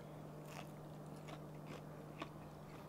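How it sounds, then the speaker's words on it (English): A smash burger topped with potato chips is chewed close up, producing a few distinct crisp crunches spaced about half a second apart over a faint steady hum, with no talking. "as you're chewing, you're hearing crunching"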